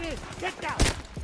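A sharp, booming sniper rifle shot in Battlefield 2042 cracks out once near the end of the moment, with a loud low thump, surrounded by busy game ambience and talk.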